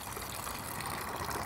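Coolant drains from the engine of a Vespa GTV scooter in a steady, close rush of trickling liquid with no pauses.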